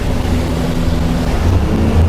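A boat's outboard engine idles and drones steadily at close range, with a low hum and a little water wash and no talk.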